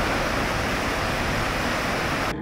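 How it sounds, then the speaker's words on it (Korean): A fast-flowing river on a sunny day in Japan, on a cycling route between Takayama and Nagoya: a loud, steady, continuous rush of water with no pauses, cut off abruptly at the end. "날씨는 화창했고 강물은 청량한 소리를 내며 빠르게 흘러갔습니다."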